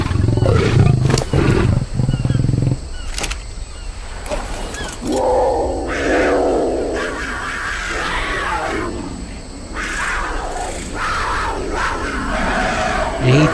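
Bengal tigers in the Ark Rainbow Zoo mod video game giving deep, loud roars and growling grunts, several bursts in a row with a rumbling, crowd-like layer underneath.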